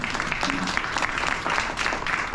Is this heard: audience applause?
yes